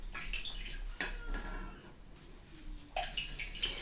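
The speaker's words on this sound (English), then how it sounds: "Okay, so I'm going to rinse off my brush." Quiet splashes and trickles of water as a paintbrush is swished and rinsed during water-mixable oil painting, a few short sloshing bursts separated by brief pauses.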